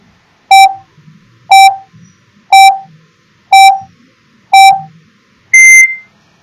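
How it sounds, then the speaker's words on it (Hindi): A quiz countdown timer ticks off five evenly spaced electronic beeps about a second apart, then ends on a longer, higher-pitched final tone, heard alone and clearly. "टाइमर ऑन कर देते हैं।"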